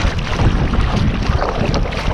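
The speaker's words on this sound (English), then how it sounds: "This wind ain't real bad out here, I guess." Wind blowing outdoors along a trap line, a steady loud broadband rush buffeting the microphone with no talk.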